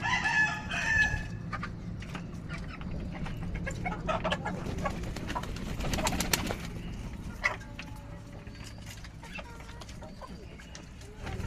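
Chickens clucking with a rooster crowing early on, plus scattered bird calls and faint background noise.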